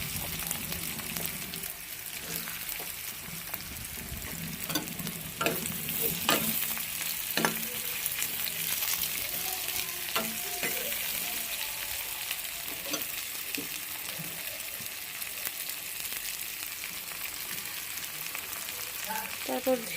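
Potatoes fry in a pan with chillies, giving a steady soft sizzle broken by occasional scrapes and clinks of stirring, close and fairly quiet.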